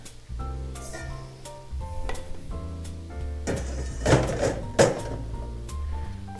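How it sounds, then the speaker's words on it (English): Shrimp sauté steadily in a hot skillet for Cajun shrimp linguine, with a few clinks and scrapes of stirring breaking through the frying hiss. "we have our shrimp sauteing"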